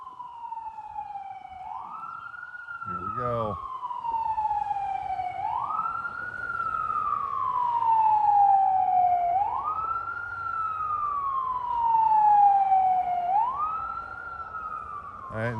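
A rising and falling electronic siren wails steadily on an emergency vehicle sweeping the course at a gravel rally, repeating in slow cycles, fairly loud and continuous, with a brief low thump and faint background rumble in between.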